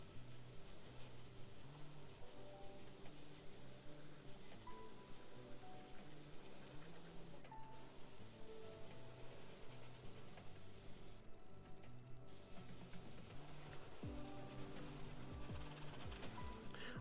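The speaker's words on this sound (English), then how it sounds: "Let me just blow some air on it so it's dry." An old airbrush blows a steady stream of air to dry fresh paint on a Kingdom Death miniature, a continuous close hiss lasting throughout with a low background hum and a couple of brief breaks.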